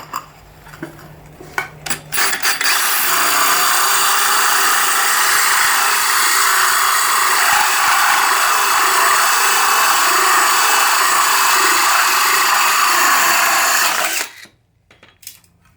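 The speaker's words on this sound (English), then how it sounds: "just drill straight through" A diamond holesaw drills dry through tile in one long, loud, steady abrasive whine lasting over ten seconds, starting abruptly and cutting off near the end.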